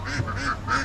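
Ducks at a children's farm section of a safari park give three quick, nasal quacks in a row, close by and fairly loud.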